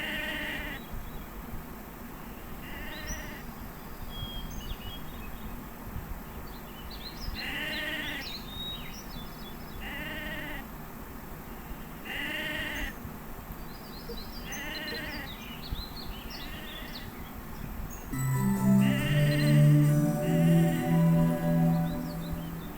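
Sheep in the Mabinogi video game bleat repeatedly in the background, a steady series of evenly spaced calls over a low ambient hum, joined near the end by a louder musical tone.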